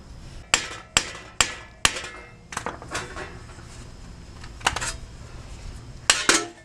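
A hammer taps a rusted wheel hub off a Honda Pilot, giving four sharp metallic strikes in quick succession, then a few softer knocks and clinks, close up.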